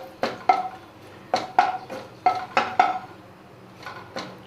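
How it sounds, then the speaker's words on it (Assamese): Spices, including bay leaf and melted sugar, stirred in a metal cooking pot, giving close, bright scraping clinks that come in quick bursts of two or three strokes separated by short pauses. "ভাজ খোৱালৈকে মই এনেকৈ লৰাই থাকিম"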